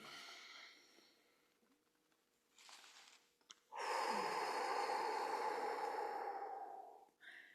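A person breathes in and out as a breathing exercise: faint, airy inhales give way to one long, loud, rushing exhale, followed by a brief, softer breath at the end.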